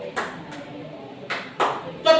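Sharp claps from a class counting clap game in an Indonesian-language lesson: five crisp, unevenly spaced claps with talk between them, the last ones louder and closer.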